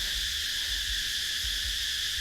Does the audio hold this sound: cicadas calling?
yes